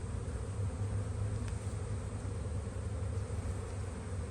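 Honey bees buzz on a hive frame during a spring inspection of a healthy colony, a dense steady drone filling the clip close to the microphone, with no talking.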